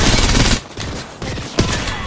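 Rapid automatic gunfire from Apex Legends rattles in loud, dense bursts separated by short gaps.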